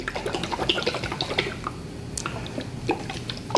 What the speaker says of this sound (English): Let's just give it a nice little shake one last time.